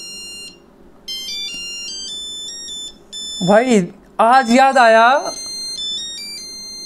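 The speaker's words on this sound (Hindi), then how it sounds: "हमारे घर में जब भी फोन आता था ना ये ट्यून बजती थी" An old phone ringtone in a video game, a bright repeating electronic melody of short beeping notes, interrupted midway by someone speaking loudly over it.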